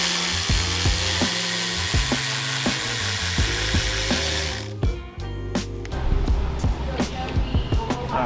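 A power drill bores into a car's body lip on a Honda FL5 Type R during a body kit install, giving a sustained buzzing whine, and a voice talks over it partway through.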